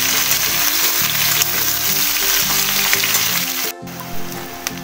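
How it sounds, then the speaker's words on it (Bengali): Boiled potatoes tipped into a pan of frying pointed gourd, giving a steady, close sizzle with a brief dip near the end, over soft background music. "এরপর আমি ভেজে সিদ্ধ করে রাখা আলুগুলো অ্যাড করে দেব।"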